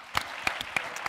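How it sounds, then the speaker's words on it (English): A few scattered, distinct claps from an audience at a talk, four or five separate hand claps spaced unevenly over about a second, fairly quiet. "round of applause for Birthright"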